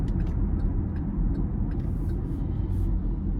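From inside the cabin of a 2024 Chevrolet Equinox RS, its turbocharged 1.5-litre four-cylinder gives a steady low engine drone under light throttle, with road rumble and no talk.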